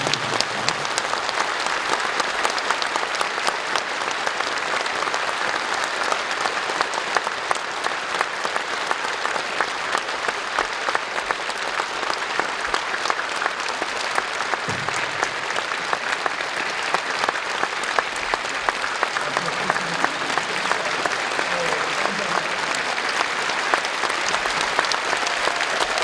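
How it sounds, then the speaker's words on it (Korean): A church congregation applauds at a Presbyterian pastor's installation thanksgiving service, a steady sustained wash of clapping running for about 26 seconds with no break. "박수로 축하드립니다"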